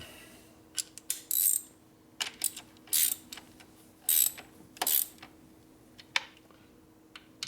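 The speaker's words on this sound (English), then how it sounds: "Now I should be able to torque them down." Bolts are torqued down on the top end of a 1980 Harley-Davidson Shovelhead 92ci stroker engine: short bursts of close, crisp mechanical ratcheting clicks separated by brief pauses, with no talk.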